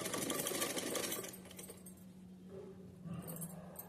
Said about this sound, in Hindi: एक सीधी सिलाई लगाते हैं। इसको इसमें सिल के अटैच कर लेते हैं।